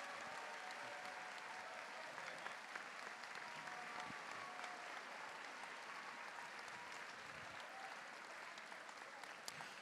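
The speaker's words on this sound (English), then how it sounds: "I think he deserves a huge round of applause" A school audience at a house music evening applauds continuously, the steady wash of clapping sounding distant and faint throughout, with a few sharper individual claps standing out.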